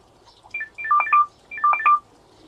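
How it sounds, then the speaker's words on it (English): Two quick bursts of electronic phone beeps, each a rapid chirping sequence of tones, close and clear against near silence. "why is your phone making those noises?"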